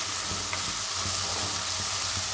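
Cashew curry masala paste fries in oil, sending up a dense, constant sizzle punctuated by soft, regular stirring thumps, close up and without any voices.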